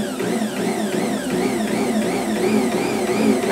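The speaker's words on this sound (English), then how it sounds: "I just kind of pulse the machine because it's all dry in there, so it's going to be real floury." A kitchen mixer or food processor pulses dry oatmeal bread ingredients with its lid on, giving a steady motor whine that rises and falls in regular pulses, loud and close with no talk.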